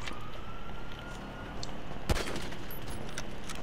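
A single sharp pistol shot in Grand Theft Auto V cracks out once near the middle, set against a steady rumble of city and traffic noise.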